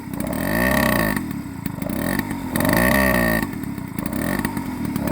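A Peugeot 103 Gazelle moped engine runs loud and close after a push start, its two-stroke note rising and falling in repeated revs with a buzzy, rattling tone.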